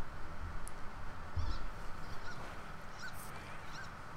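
Small birds in the video game Firewatch give short, high squeaky chirps, a few spaced calls over a quiet outdoor ambience near a lakeside.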